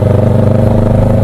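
A Kawasaki 650cc parallel-twin big bike engine runs steadily close by, a loud, even hum with no change in pitch through the short stretch and no voices over it.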